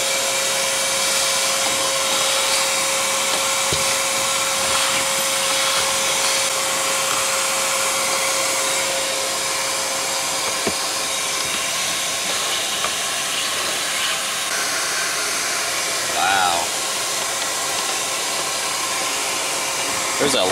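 A shop vac vacuuming out a filter, a loud, steady whooshing roar that runs unbroken for the whole stretch, with a few faint knocks from the hose.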